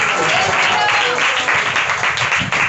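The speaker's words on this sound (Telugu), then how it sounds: "చప్పట్లు కొట్టి యేసుకు స్తోత్రం చెప్పు" Worshipping congregation clapping in praise to Jesus during a church message; continuous, fairly loud crowd clapping with a faint murmur of voices underneath.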